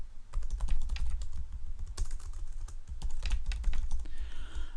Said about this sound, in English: I'm going to type the names of a few places.